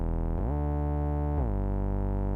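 A lone synthesizer oscillator in a VST plugin drones with a rich stack of steady harmonics, sliding quickly in pitch twice before settling on new sustained notes; loud, continuous and clean with no voices.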